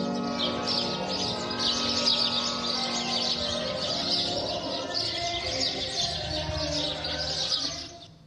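House sparrows chirp busily and continuously, a dense chorus of bright tweets close by, with faint background sounds underneath and no talking.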